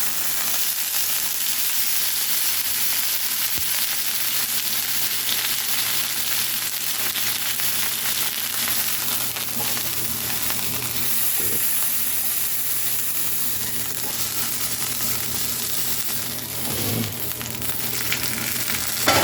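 Steady, loud sizzle of a coffee-rubbed T-bone steak searing in a hot pan with onions and mushrooms in the juices, a continuous frying hiss with occasional brief pops and scrapes, no talking.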